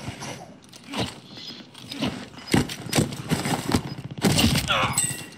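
Gunfire in the Call of Duty Rebirth Island battle royale: a burst of sharp shots and crackling impacts comes in uneven clusters, moderately loud, mixed with game sound effects and brief voice prompts.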